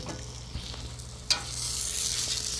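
Garlic bread sizzling on a Blackstone griddle, a short close burst of frying hiss with a light scrape or clatter partway through, steady and without talk.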